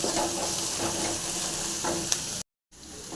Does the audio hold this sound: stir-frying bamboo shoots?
yes